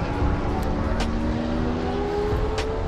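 A stock 1994 or 1995 Porsche 993 Carrera with narrow exhaust tips drives past at a Porsche corral during Rennsport Reunion, its engine a steady close hum with no talking.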